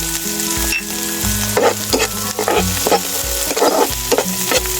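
Ginger sautéing in a hot pan for snail adobo in coconut milk with tofu, a loud steady sizzle with bursts of stirring and scraping throughout, no talking.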